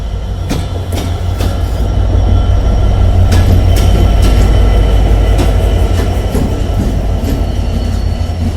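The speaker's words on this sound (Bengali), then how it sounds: "ঢাকা অভিমুখী নীলসাগর সঠিক সময়ে পার্বতীপুর প্রবেশ করছে।" The Nilsagar Express pulls into Parbatipur Junction at night with a loud, heavy rumble of wheels, rhythmic clickety-clack over rail joints and repeated sharp clanks, close by.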